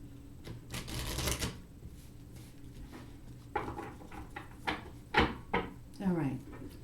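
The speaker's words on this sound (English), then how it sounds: "One more, I heard, so we'll shuffle one more time." Oracle cards being shuffled by hand, a brief riffling burst followed by several soft card taps and handling noises, with someone talking between them.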